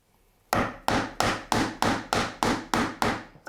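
A chisel struck repeatedly with a mallet to cut a dovetail joint in wood, giving eight sharp, evenly spaced knocks with short ringing decays, loud and close with nothing else heard.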